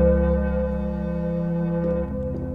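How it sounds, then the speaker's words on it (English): Generative synthesizer music with a wavetable voice blended into swelling reverb: sustained layered harmonic tones drone steadily, then shift to a new chord near the end, with no voices. "Get some swelling reverb now."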